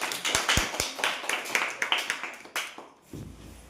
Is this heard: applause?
yes